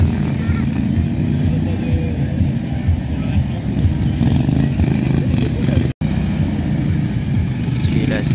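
Racing lawn tractor engines, including a yellow Cub Cadet, at a lawn tractor race in Saché, a steady loud clattering motor drone close by with a brief dropout midway.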